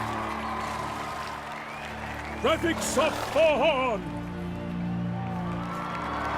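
A crowd at a tournament in The Witcher 3 cheers and applauds in a steady, distant roar while an announcer calls out loudly over it.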